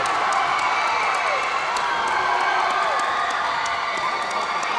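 The Susquehanna Township crowd cheers and shouts steadily in a gym during a high school boys basketball game against Hershey, a loud continuous roar with whoops and whistles throughout.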